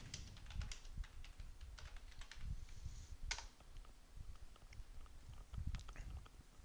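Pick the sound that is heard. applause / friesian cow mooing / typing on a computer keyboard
typing on a computer keyboard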